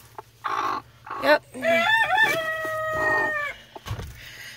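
A hen brooding on duck eggs gives rising, drawn-out clucks and squawks close to the microphone, several calls in a row, with a brief spoken word in between.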